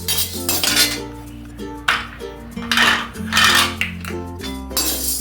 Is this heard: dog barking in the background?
no